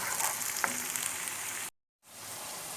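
Potatoes fry in hot oil in a pan for crispy fries, giving a steady close sizzle that cuts out abruptly for a moment of silence and then resumes.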